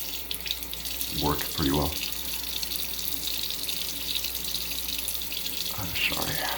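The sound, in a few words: water tap running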